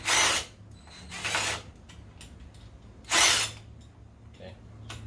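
A ratchet works loose a nut on a long engine bolt of a Honda CBR600F4i motorcycle, heard as three short bursts of rapid mechanical clicking separated by quiet pauses in a small workshop.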